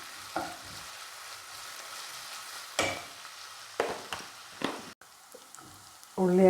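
Onions frying with salt in a pan give a steady soft sizzle with a few louder stirring scrapes and clatters near the end.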